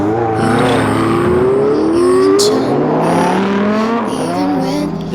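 A supercar on a Dubai road revs hard, its engine note climbing and falling through several gear-like sweeps, loud and close with a brief tire squeal and a faint voice underneath.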